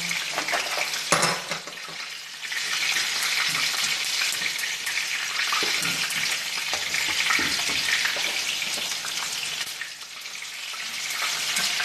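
Onions sautéing in a hot pan for butter chicken, a continuous close sizzle with occasional stirring scrapes and a short clatter early on.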